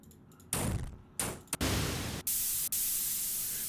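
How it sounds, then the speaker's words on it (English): Bursts of synthesized white noise, loud and hissing across the whole band, switching on and off in several abrupt blocks before holding steady to the end, with no voices. "This is a really clean white noise."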